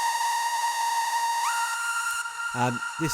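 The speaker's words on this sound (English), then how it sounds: "So I'll move on to the whistle sounding synth." A pure, whistle-like synth lead holds a steady note, then glides upward and sustains, with a few brief low sounds near the end.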